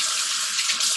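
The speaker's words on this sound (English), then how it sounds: "I'll wash my hands" Tap water runs steadily from a faucet during handwashing, a continuous close hiss and splash that stays even throughout, with no voices.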